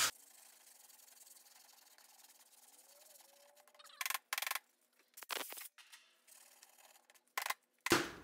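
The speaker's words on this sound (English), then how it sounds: "Once you start sanding it and you see powder and not rolling filler" Rough scraping strokes of sandpaper on body filler on an LS intake manifold, several short bursts after a quiet stretch, close and dry.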